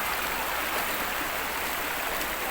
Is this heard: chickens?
no